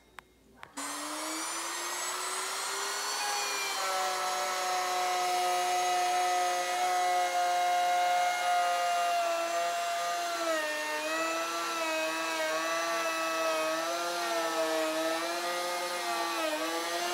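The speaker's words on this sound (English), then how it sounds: "this is where we're going to make the dado cut for the shelf" Router cutting a dado into a wooden cabinet side panel for a shelf: a loud, sustained high-pitched motor whine that starts abruptly and holds steady, with slight pitch wavering as it cuts.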